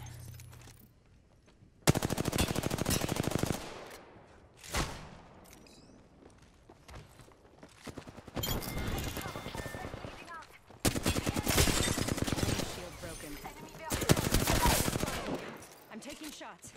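Repeated bursts of automatic gunfire in an Apex Legends match, several loud sustained volleys separated by quieter gaps with footsteps and faint voices.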